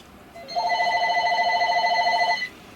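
A telephone rings once in a long electronic trill, a sustained buzzing bell burst of about two seconds, fairly loud and close, with no voices over it, in a room where O gauge model railway track is being ballasted with chick grit.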